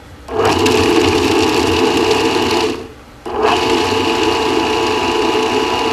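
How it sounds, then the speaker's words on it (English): A motorized meat grinder whirs steadily at high speed as it grinds quartered hot dogs, stopping briefly for a moment before starting up again and running on with a continuous mechanical drone. "we're going to grind up 10 hot dogs"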